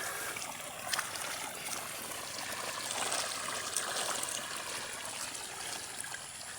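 Water rushes and trickles steadily along an irrigation channel, a continuous close babbling flow with no voices.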